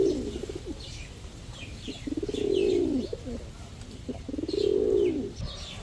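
Pigeons coo at a pigeon market where fancy and racer breeds are sold, with close, repeated rolling coos swelling in a few loud bursts over a low murmur and faint chirps.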